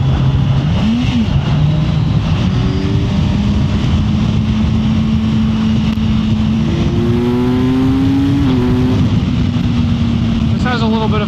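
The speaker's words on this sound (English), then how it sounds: "this bike has a nice tone to it" A 2024 Kawasaki Ninja 1000 SX motorcycle engine drones steadily while riding, its pitch rising and shifting through gears as it accelerates, heard up close with constant wind rush throughout.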